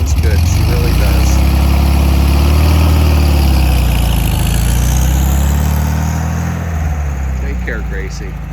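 A restored VW Super Beetle's air-cooled engine idles close by, a steady loud low chugging that holds even throughout and eases slightly toward the end.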